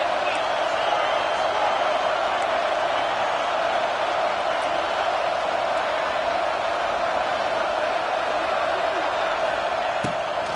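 A huge stadium crowd at a college football game roars in one steady, dense wash of noise for the whole stretch, loud and unbroken, with an occasional sharp thump and a faint voice mixed in.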